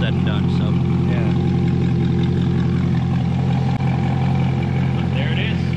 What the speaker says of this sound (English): You scared me a little when you first revved it.